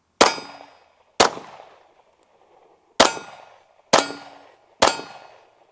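Five sharp metallic pistol shots ring off steel targets at an outdoor shooting range, each a loud crack with a bright, decaying clang, spaced roughly a second apart with a longer pause in the middle.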